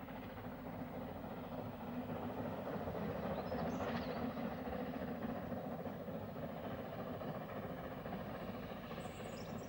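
Oil-burning steam locomotive Mountaineer working on the narrow-gauge Ffestiniog Railway, a steady, loud rumble of engine and rolling wagons held evenly throughout without voices.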